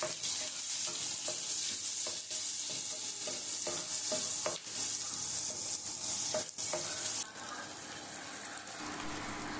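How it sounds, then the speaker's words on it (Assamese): Chopped onions fry in a pan with turmeric, red chilli and coriander powder, a constant loud hissing sizzle with occasional clicks of a spatula stirring through, heard up close. "অকণমান ধনিয়া গুড়ি এনেকৈ মিক্স কৰি পেলাই পিঁয়াজকেইটা ভাজি লৈছোঁ"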